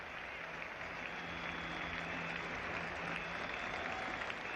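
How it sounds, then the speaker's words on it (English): Cricket crowd at the Oval applauding Garfield Sobers reaching fifty on his Test return, England v West Indies 1973: steady, broad clapping from a large distant crowd, sustained and even throughout. "a delighted crowd welcoming this Sobers 50 on his return to the Test match scene here at the Oval"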